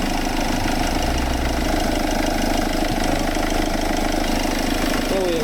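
A 2012 Vauxhall Movano camper van engine idles with a steady, loud mid-to-low rumble throughout, close by and unchanging.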